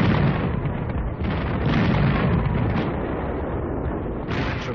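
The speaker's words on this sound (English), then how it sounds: "Tremendous artillery barrages." Heavy artillery barrage from World War II fighting at the Anzio beachhead, heard as a dense, continuous roar of overlapping booms and blasts on an old film soundtrack, loud and unbroken throughout.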